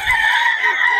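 A single rooster crow rings out loud and close, a brief harmonic call lasting about a second.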